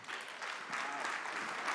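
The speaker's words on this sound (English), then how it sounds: "please give Is-haka and Marylin a big round of applause." Audience applause at a Swahili-language event honoring two guests: steady, dense clapping from a crowd, fairly distant and sustained throughout without pause.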